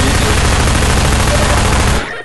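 Loud, continuous gunfire from the player's weapon in Half-Life 2, a dense unbroken burst of rapid shots close up that cuts off abruptly near the end.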